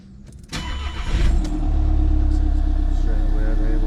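VW Crafter campervan engine, a self-build conversion with a timing fault, cranking briefly then catching and settling into a loud, steady close-up idle.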